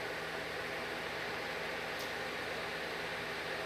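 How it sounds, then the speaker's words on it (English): A fan and an air conditioner blow in an indoor room, making a faint, even hiss with a low hum, unchanging from start to end and with no voices. "I'm sure you guys can hear the fan and the air conditioner blowing in the background."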